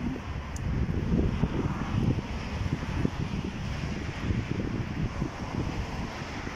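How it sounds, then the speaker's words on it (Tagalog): Steady, rushing wind buffets the microphone throughout, a continuous low roar with no voices. "Ang lamig ng simoy ng hangin."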